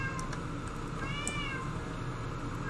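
Several cats meow in a room during a video game session, a few faint, drawn-out calls rising over a steady background hum.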